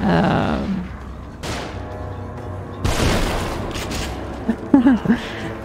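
Scattered gunshots and booming impacts in The Evil Within, a few sharp broadband blasts spaced several seconds apart over a low ambient rumble, with a voice talking briefly near the end.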